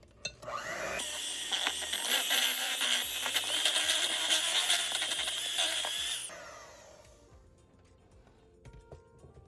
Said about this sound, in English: we're going to beat it with the mixer and mix it in real good